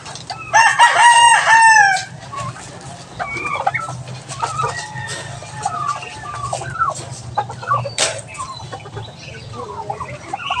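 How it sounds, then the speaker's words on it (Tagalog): Farmyard fowl in a rural provincial yard: a loud rooster crow rings out near at the start, then hens cluck and chatter intermittently over a low steady hum. "Meron din dito mga manok na ayan o, paikot-ikot dito na nakawala."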